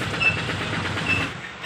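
A train at a railway station on a rainy day gives a steady rumbling hum with faint rhythmic rail clatter, moderately loud and unbroken until it eases off briefly at the end.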